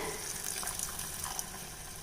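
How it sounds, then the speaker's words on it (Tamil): Water poured into a cooking pot while vegetables and boiled peas are being prepared for a white kurma, a steady continuous splashing pour heard close and fairly faint, with no talk. "இன்னும் கொஞ்சம் தண்ணி சேர்த்துக்கிறேன்."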